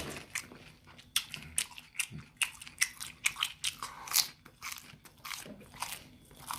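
Close, crisp crunching bites into fried food, coming in an irregular series of sharp crackly chews with no talking.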